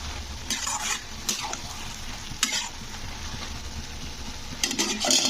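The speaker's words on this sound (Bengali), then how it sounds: "লবণটা দিয়ে আবারও একটু আমি নাড়াচাড়া করে দিলাম" Bottle gourd stirred in a pan after salting, a steady close sizzle of frying broken by repeated scraping strokes of a spoon against the pan, with no voices.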